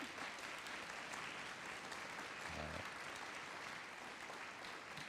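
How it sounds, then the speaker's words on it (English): Applause for a university project team at a nuclear disarmament advocacy event, a faint, distant, steady patter of many hands clapping throughout, with a brief low thump partway through. "I'd like you to give a great round of applause."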